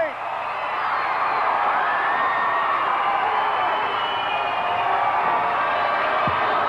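A capacity crowd in a Boston wrestling arena cheers and roars steadily throughout, a dense, loud wash of voices with whoops and shouts, no single voice standing out.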